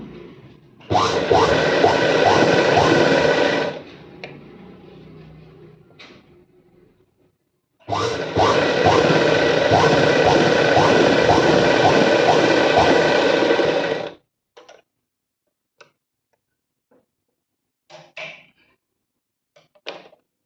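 A sewing machine fitted with a normal presser foot stitches thin fabric piping in two close runs, a short burst and then a longer one. Its dense motor whir carries a steady ticking rhythm, and faint handling noises follow with no talking.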